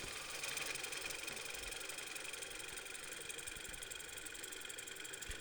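A gouge cuts wood spinning on a lathe, with a steady, close whirring drone and an even shaving hiss running throughout at a constant pace; no one speaks.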